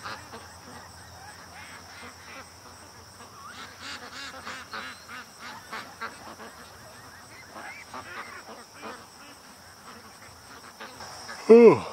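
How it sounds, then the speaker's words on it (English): Ducks quack faintly and sporadically against a steady chorus of insect chirping outdoors, then one loud, close call breaks out near the end. "Those silly ducks."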